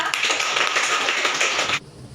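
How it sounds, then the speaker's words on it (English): Classroom applause for a student, a few seconds of dense, bright clapping from a small group, steady then stopping abruptly. "Give a applause to Lisa."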